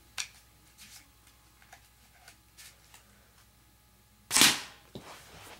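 A homemade paper sniper rifle fires and its projectile smacks into a target: one loud, sharp snapping impact stands out from quieter background ticks, followed by a smaller click.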